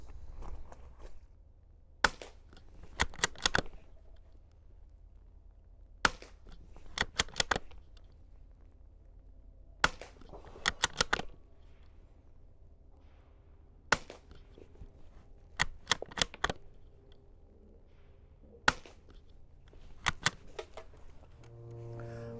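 Sharp, isolated shots from a Savage Mark II bolt-action .22LR rifle firing CCI standard velocity ammunition, spaced several seconds apart with occasional quick pairs and faint handling noise between, heard alone against quiet outdoor background.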